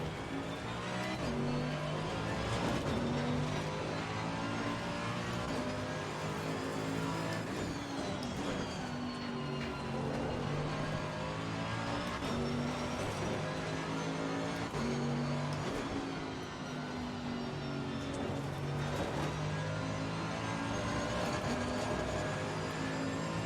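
Mercedes-AMG race car in the Assetto Corsa Competizione racing game, engine droning loudly and steadily with rising and falling revs through gear changes, alone without talk.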